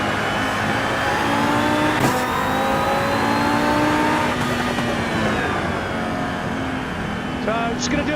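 Race car engine in Assetto Corsa Evo lapping to warm its tyres, loud revving with rising and falling pitch through gear changes and a brief dip, under occasional talk.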